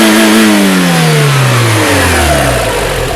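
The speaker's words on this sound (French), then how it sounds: "Mais très nerveuse pour un L4. Oui. Pas le même bruit à l'accélération." A Renault 4 (L4) engine revs hard and accelerates, its pitch climbing steadily in a loud, close, continuous drone.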